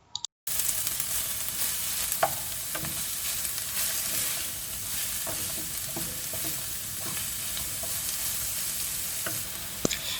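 Chopped onion and kalonji seeds frying in a pan for aloo samosa filling, a continuous close sizzle with scraping stirs and a few sharp utensil taps scattered across, no voices.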